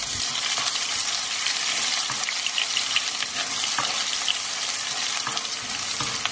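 Freshly crushed ginger and garlic frying with cabbage in a hot pan, a loud, continuous crackling sizzle with bursts of spitting throughout.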